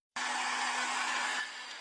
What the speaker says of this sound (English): I use a heat gun. Is that going to be okay? Because that's going to get loud.